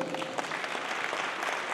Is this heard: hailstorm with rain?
no